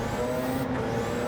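A Gran Turismo 7 race car in a Nations Cup online race revs hard in third gear, bouncing off the rev limiter. The engine makes a loud, steady, close buzz with no voices.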